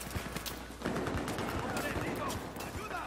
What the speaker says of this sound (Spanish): hay un güey que está disparando desde el otro pinche lado, desde ahí precisamente